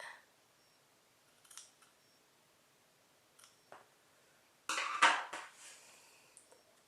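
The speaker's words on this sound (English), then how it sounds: "It should not be that much hair that you're cutting with scissors." A few quiet snips of small scissors trimming eyebrow hairs, then a louder cluster of sharp cutting clicks near the end, close up with no talking.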